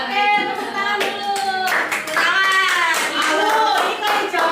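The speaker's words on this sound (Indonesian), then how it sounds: "Oke, tepuk tangan dulu." Audience clapping at a school group presentation session, mixed with children's voices and chatter throughout, steady and fairly loud.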